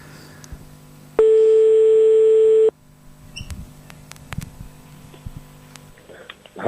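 A telephone ring tone sounds on a call, one steady electronic tone lasting about a second and a half, followed by faint background noise and small clicks.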